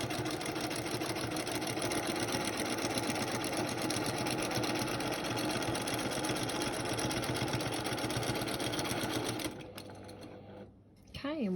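A sewing machine free-motion quilts feather plumes, running in a fast, steady, close hum and rattle for most of the clip before stopping near the end, with some faint talk beneath.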